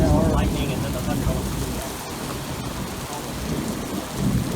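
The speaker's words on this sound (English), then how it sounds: "Lightning and then the thunder." A thunderstorm at Orange Beach, Alabama: heavy rain pours steadily and close while deep thunder rumbles underneath, loud and continuous, with brief talk.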